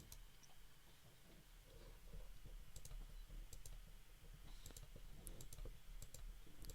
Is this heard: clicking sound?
yes